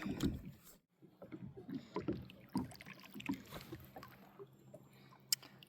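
Kayak paddling on Cooper Lake, with soft rhythmic splashes and watery strokes repeating every second or so, close and quiet, some breezy handling noise between strokes.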